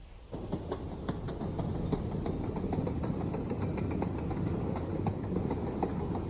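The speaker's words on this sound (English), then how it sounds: "scenic tram ride for cats." Tram ride in the hand-drawn video game Short Trip, a continuous rumbling roll with steady rhythmic clicks and clacks of wheels on track, even and close throughout with no talk.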